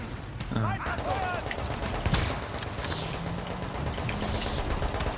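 Gunfire in the video game Tom Clancy's The Division crackles in scattered bursts over dense game noise, while a voice talks through part of it.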